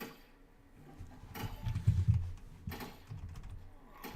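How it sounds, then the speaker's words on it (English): Fingers typing on a computer keyboard during an online game session, a quiet close clatter of keystrokes in a few irregular bursts with brief pauses between them. "I forgot to hit enter before I started typing"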